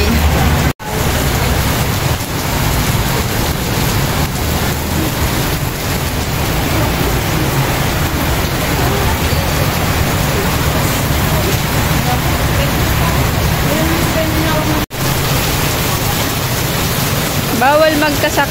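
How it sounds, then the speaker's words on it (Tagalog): Heavy rain pours down in a constant dense wash of noise that barely changes over time, with a couple of brief dropouts. "Malakas ang ulan, guys."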